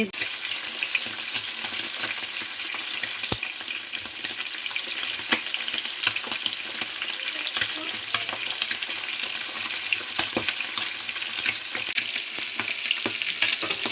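Large rohu fish heads sputter in hot oil, a loud continuous close sizzle with scattered crackles and occasional stirring clinks, no talk.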